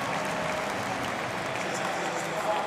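A stadium crowd applauds at the World Para Athletics Championships in London, steady dense clapping and cheering filling the whole moment at an even level.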